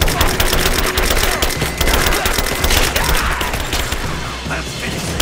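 Dense gunfire in the game Rise of the Tomb Raider, rapid overlapping shots forming a loud, continuous fusillade across the whole stretch with little pause.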